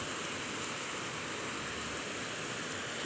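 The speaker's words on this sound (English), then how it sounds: "A lot of rain." Heavy tropical rain pours down in Brunei, a loud, dense, unbroken hiss of water drumming on surfaces with no pauses or voices.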